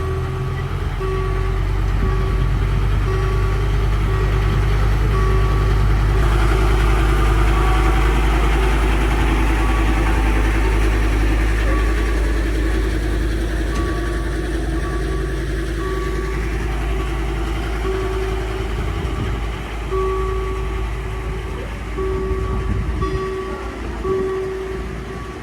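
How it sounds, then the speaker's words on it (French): A heavy diesel locomotive starting and accelerating a long train of coaches drones steadily nearby, its low rumble swelling and shifting as it works under load, with no talking. "La locomotive diesel accélère sans peine et déplace sa longue rame de voitures colorées"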